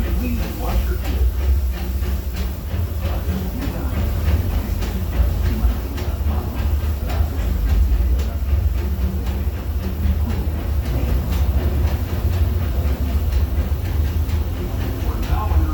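A Disneyland Railroad train led by the steam locomotive Fred Gurley rumbles steadily along the rails with constant low-end roar and faint rhythmic clatter, loud and close throughout.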